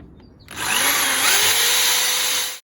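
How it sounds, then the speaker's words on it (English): A power drill bores a hole for fitting verge trim in a DIY roofing job, its motor whining up loudly and holding steady for about two seconds before cutting off abruptly. "It's much easier to drill the holes through from this side."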